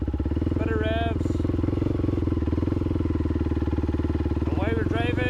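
A race quad ATV engine idles with a steady, loud, close mechanical thrum, the revs rising slightly as the clutch is let out, while someone talks over it.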